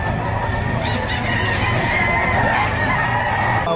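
Chickens and roosters at the Padre Garcia, Batangas livestock auction market crow and cluck in a busy, continuous chorus, close and fairly loud among crowd noise.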